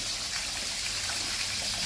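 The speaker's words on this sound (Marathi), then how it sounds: "सगळीकडनं दगडातून पाणी पडतंय आणि किती सुंदर दिसतंय बघा." Water spills through rocks in a cave garden in Cherrapunji, Meghalaya, making a steady broadband rush that stays even and fairly loud with no voices.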